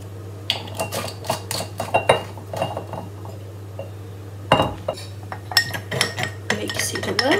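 A spoon clinks and scrapes against a glass or cup while a homemade drink remedy is mixed, a close run of irregular metallic taps with a short pause midway, with no talking.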